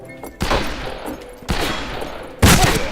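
Gunfire in the western shooter video game Fistful of Frags, three loud separate blasts spaced about a second apart, each ringing briefly with a rough echoing tail.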